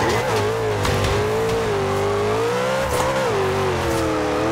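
Car engine held at full throttle in Forza Horizon 2, a loud sustained high-revving roar that rises and dips slightly with gear and load, running steadily and close throughout.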